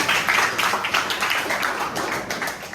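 An audience at a teacher supervision session claps in a dense, uneven patter that fades slightly toward the end, with no voices over it.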